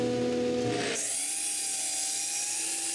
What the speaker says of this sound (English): After surfacing a few pieces, I cut them close to the right length.